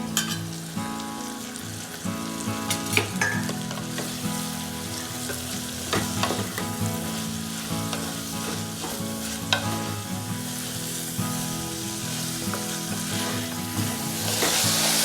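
Bajji chillies fry in a pan with tomato and onion, producing a loud, continuous sizzle broken by frequent stirring scrapes and clatters, with background music playing throughout.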